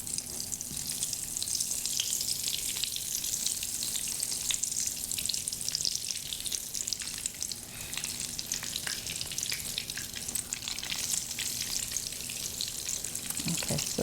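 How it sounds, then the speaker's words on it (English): Eggplant frying in canola oil over high heat, a steady, dense crackling sizzle with occasional sharper pops, close and continuous throughout. "so now I'm frying the eggplant."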